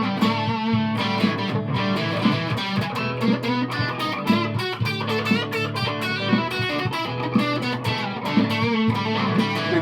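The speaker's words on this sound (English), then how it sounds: "The other distortion pedal just for a wee blast." Electric guitar played through a distortion pedal, giving a loud, dense, continuous crunchy drive with rhythmic chord strums throughout.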